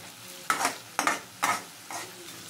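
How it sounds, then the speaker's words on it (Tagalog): Hotdog sautéed with garlic in a pan is stirred, four scraping strokes over a low sizzle, close and moderately loud, the last stroke softer. "Lagay na rin natin tong hotdog, isabay na natin siya sa paggisa hanggang maprito na yan dyan."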